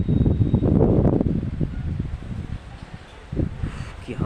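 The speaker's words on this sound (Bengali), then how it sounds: "কি হাওয়া দিচ্ছে।" Strong gusty wind blowing outdoors just before a storm, loud roaring buffets against the microphone that ease off midway and pick up again briefly, with no talking.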